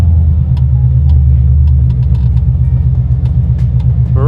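A Datsun 280Z fitted with an LS2 V8 idles with a loud, steady, deep rumble close by, its low throb continuous throughout.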